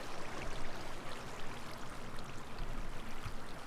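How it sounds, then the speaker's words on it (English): Lava pouring and flowing in Minecraft, a steady bubbling, gushing wash that holds at an even moderate level throughout with no speech over it. "I heard lava pouring down on some."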